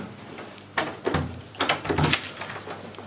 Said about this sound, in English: It's the first time she's bothered to open a door by herself.